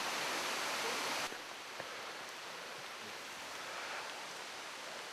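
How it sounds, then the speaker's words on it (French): Steady broadband rushing of water from the Liumon waterfall in Yoshino, Nara, Japan, heard from nearby, louder for the first second then settling into a constant even roar. "vous mettre à méditer emporté par le bruit de la cascade"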